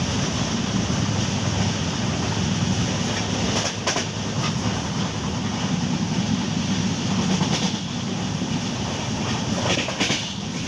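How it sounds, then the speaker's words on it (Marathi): Konkan Railway passenger train running fast, a steady loud rumble of wheels and carriage noise with faint rhythmic clatter throughout, heard from inside the coach. "ट्रेनने चांगल्या प्रकारे स्पीड पकडले ना,"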